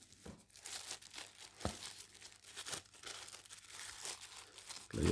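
Solar-powered action camera packaging being torn open and crinkled, a steady close-up run of crackling plastic and paper rustles with a few sharper rips, no talking.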